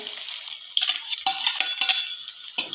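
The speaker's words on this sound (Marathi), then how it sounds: "जिरे चांगलं फुललं की आपण बारीक कट केलेला कांदा घालूया" Chopped onion dropped into hot oil with cumin in a kadhai crackles and sizzles in short bright bursts, with light stirring scrapes, close and clear with no talk.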